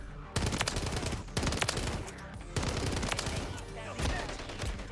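Rapid bursts of automatic gunfire from a gun in Modern Warfare 3, loud and close, firing in several sustained volleys with brief pauses between them.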